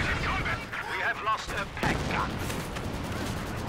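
A Katyusha rocket barrage in a war video game roars as dense, overlapping booms and rumbling explosions fill a constant battle din, with a voice talking over the clamor.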